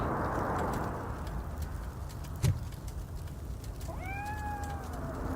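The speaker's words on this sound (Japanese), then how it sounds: "ロボコップの時代にも猫がいたんだな" A cat meows in the RoboCop: Rogue City video game, with one drawn-out, rising-then-falling call near the end over a low, steady game ambience and a single sharp thud midway.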